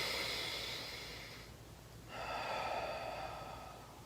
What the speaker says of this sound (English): So if I took a deep breath in, so watch my hand again